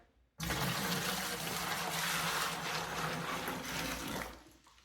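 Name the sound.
pouring dissolved cure liquid for hog meat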